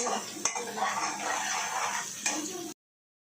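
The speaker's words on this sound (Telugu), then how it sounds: "అడుగు అంటనివ్వకుండా చక్కగా మిక్స్ చేసుకుంటూ" Ginger garlic paste stirred and fried in a pan for restaurant-style gongura chicken, a steady scraping and clinking of a spoon against the pan bottom with a soft sizzle underneath, close and continuous, ending abruptly.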